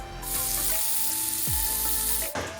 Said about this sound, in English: they serve it to you on a sizzling plate on top of a bed of onions, peppers